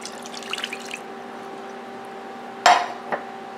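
Beef broth poured from a can into a crockpot, heard as one short splashing pour followed by a brief second splash, with faint kitchen clinks earlier over a steady low hum.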